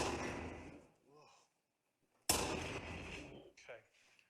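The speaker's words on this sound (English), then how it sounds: "That explosion." A sudden loud explosion bursts out after a brief silence and decays with a long rumbling tail, preceded by a fading rumble and a few short voiced sounds, followed by more brief vocal noise.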